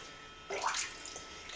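Blix film-developing chemical poured out of a container, one short splashy gush rising and fading in about a second, close and fairly quiet.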